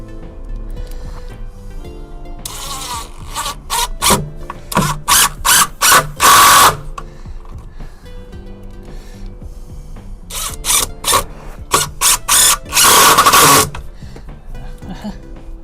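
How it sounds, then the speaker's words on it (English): A cordless battery drill drives 2-inch screws into the frame under a door threshold board, with repeated bursts of whirring that come close and loud, separated by short pauses, and a few quieter clicks and handling noises between them. "For that I've got some 2-inch screws and my battery drill."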